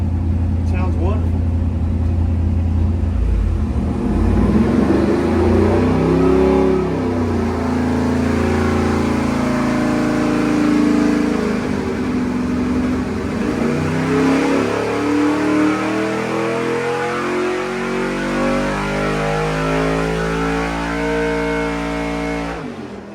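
Carbureted 5.3 LS junkyard engine on a dyno pull, revving loud and close with rising and falling engine tones sweeping up through the pull, continuous with no pauses.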